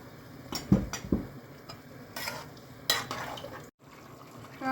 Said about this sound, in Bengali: এখন আলুগুলো দিয়ে দিচ্ছি, পরিমাণ মতন জল দিয়ে দিচ্ছি